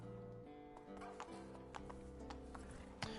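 Horse hooves clip-clop at a steady trotting rhythm in the video game The Witcher 3, the hoofbeats standing out against sustained background game music.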